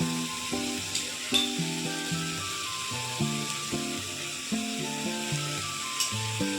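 Crushed ginger, garlic and dried and fresh chili paste frying in hot oil for a home-style chicken curry, a steady close sizzle with intermittent stirring scrapes and clatters.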